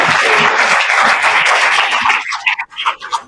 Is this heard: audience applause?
yes